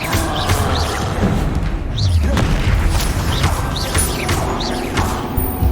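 A Confringo fire spell explodes in the Hogwarts Legacy video game, giving a loud booming blast among dense game effects and music, with vocal sounds mixed in.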